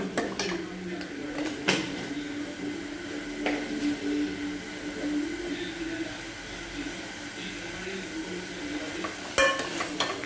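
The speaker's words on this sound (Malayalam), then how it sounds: "പൊടികളൊക്കെ ഇട്ട് നമുക്ക് ഇളക്കി കൊടുക്കണം" Coriander, turmeric and chilli powders stirred in a pan for rasam, a low continuous scraping with a few sharp clinks of spoon on metal, close and moderately quiet.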